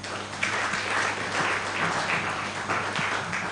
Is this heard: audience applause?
yes